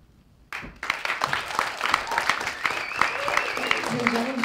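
An audience at a poetry slam bursts into applause right after a performance, sudden loud clapping and some whoops that start abruptly and continue steadily, with a few voices calling out in the crowd.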